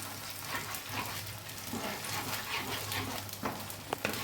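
Creamy gravy for Afghani chicken is stirred around a hot pan, giving a soft continuous sizzle broken by occasional scrapes and spoon taps, close by with no talking.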